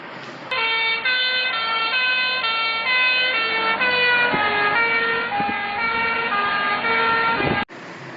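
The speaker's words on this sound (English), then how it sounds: "This sound is of a vehicle when it is moving towards you and then it passes away." Emergency vehicle siren approaching and passing with a clear Doppler drop in pitch, a loud steady wailing tone with strong harmonics that sweeps down as the vehicle goes by, then cuts off.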